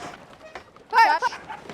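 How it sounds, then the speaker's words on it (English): A farm dog barks in a short, loud burst near a gate while stock is being pushed through, with faint sounds before and after. "Bim's barking."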